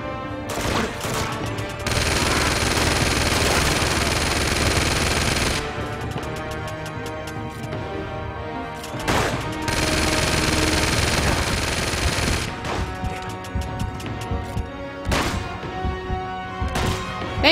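Heavy automatic gunfire from a gun in Uncharted 2: Among Thieves, long sustained bursts of rapid shots broken by sharp single cracks, thuds and impacts, loud and close with no talking.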